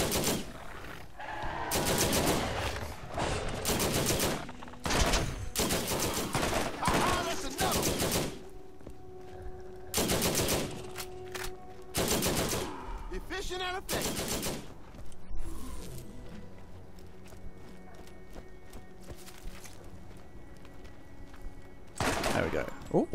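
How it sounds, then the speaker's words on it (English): A deployed turret in the Borderlands video game fires rapid bursts of gunfire again and again, loud and punchy, with quieter stretches and game sounds between the volleys. "So let's throw a turret."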